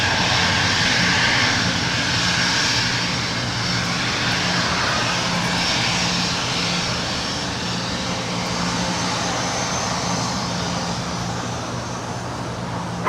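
Jet airliner at LAX, a steady, loud roar of aircraft engines with a sustained low hum running the whole time, set against broad airport and traffic noise and holding near-constant in level.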